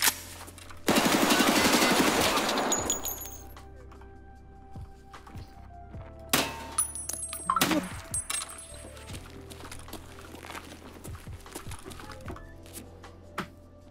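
Escape From Tarkov gunfire: a loud burst of shots near the start, then several separate single-fire shots spaced out, with clinks of spent casings and some light footsteps in between.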